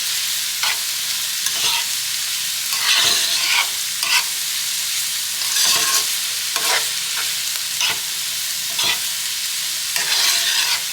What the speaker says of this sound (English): we're sauteing these in its beef tallow